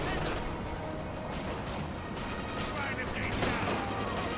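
MG42 machine gun fire in Company of Heroes 2 rattles continuously among dense battle gunfire and explosions, loud and unbroken, with a voice talking over it.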